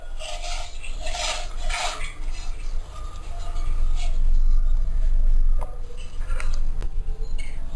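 A spoon scrapes and clinks against a bowl while a potato filling for spicy chicken potato donuts is stirred together with breadcrumbs, irregular close rubbing and tapping with a few louder knocks.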